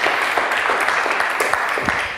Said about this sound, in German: Ein Applaus, bitte.